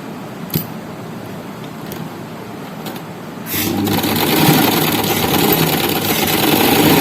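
A sewing machine stitches a seam on an umbrella frock. After a few quiet handling clicks, the motor starts and runs as a loud, steady whirring hum until the end.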